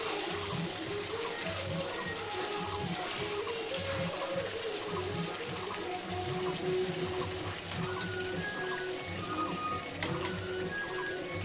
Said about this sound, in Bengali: জল দিয়ে দিব এখন